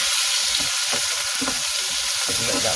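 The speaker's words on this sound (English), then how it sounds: "I'm adding the onions and just some tomatoes right now." Onions and tomatoes sizzle steadily in hot oil for a curry, a loud continuous frying hiss with faint stirring clicks and scrapes throughout, no voices.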